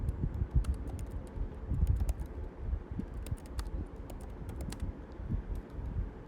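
A computer keyboard clatters as a prompt is typed, with quick, irregular keystrokes in bursts, close and fairly quiet.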